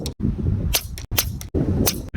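An air rifle fires RWS pellets in a string of quick, sharp cracks less than a second apart, each a short close burst followed by a brief hush.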